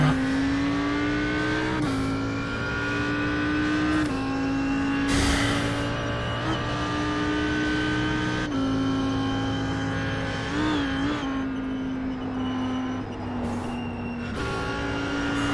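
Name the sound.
Audi R8 GT3 engine in iRacing video game at Nurburgring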